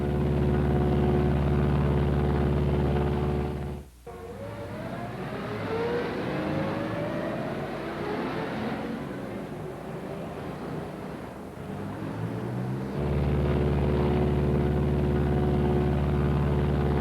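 A Martin B-26 bomber flies on one engine at 4,000 feet, a loud steady droning roar that dips briefly, shifts to a rougher wavering tone with rising whines, then returns to the full steady drone.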